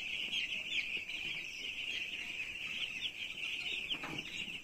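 Chickens cluck and call continuously on a poultry farm, a dense flock chorus with a steady high-pitched chatter and occasional louder squawks throughout.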